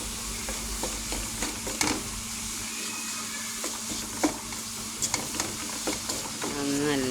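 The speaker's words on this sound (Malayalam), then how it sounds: "നല്ല ഇളക്കി കൊടുക്കുക." Chicken fried rice with white pepper is stirred in a hot pan: a low sizzle runs under scattered sharp clicks and scrapes of the spatula against the metal.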